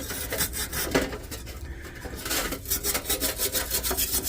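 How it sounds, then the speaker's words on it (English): Steady abrasive rasping of rust being scrubbed off an old, heavily rusted metal frame, continuous and close, with rhythmic strokes growing more regular toward the end. "Clean the rust off easy enough."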